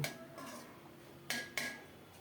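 A spoon mashing boiled flat beans in a pot gives soft scraping and light clinks at first, then two sharp metallic knocks against the pot.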